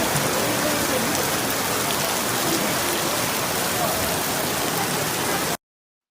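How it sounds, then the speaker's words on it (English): Heavy rain pours down steadily and loudly, a dense, unbroken hiss of water that cuts off abruptly at the end. "in that torrential downpour"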